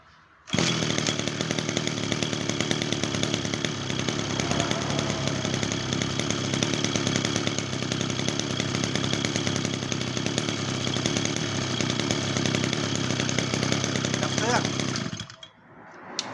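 An Iseki C35 tractor with a Kawasaki TD33 engine runs steadily at close range, a loud continuous mechanical drone lasting about fifteen seconds before cutting off abruptly.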